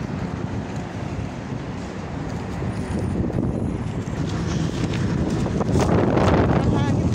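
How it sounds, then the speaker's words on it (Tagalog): Strong wind buffets an outdoor microphone in broadband gusts, steady throughout and building louder toward the end while a street is walked. "Sobrang hangin talaga yung hangin."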